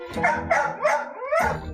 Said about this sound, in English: And still lots of barking.